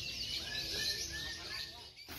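Caged birds at a Yogyakarta bird market chirp and tweet in a dense, continuous high twittering chorus, moderately faint, with a person talking quietly underneath.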